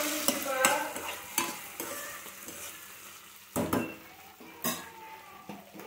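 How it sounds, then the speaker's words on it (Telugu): Chicken pieces for chicken 65 frying in a pan with ginger-garlic paste and little oil, a soft hiss under repeated spatula scrapes and sharp metal clinks against the pan, close up with no speech. "ఇలా కొంచెం ఫ్రై అయిన తర్వాత లైట్గా ఇలా అల్లం వెల్లుల్లి పేస్ట్ వేస్తున్నాను"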